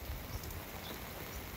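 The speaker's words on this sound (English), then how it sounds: "it's been raining all night and all morning" Steady rain falls through the night and morning, a soft wash of drops and patter heard alone at a moderate distance.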